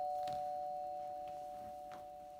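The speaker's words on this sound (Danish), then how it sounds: "Jeg skal ikke have alle de dørklokker, der ringer da." A faint electronic doorbell keeps ringing with a steady two-tone note and no voices over it, while a few soft knocks or taps sound in the background.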